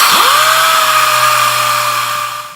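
A power sander working a drywall patch: the motor spins up quickly into a steady, loud, high whine that holds throughout, close by, with no talk.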